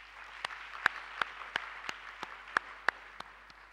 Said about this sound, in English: let's give a very big applause to management of the university for this initiative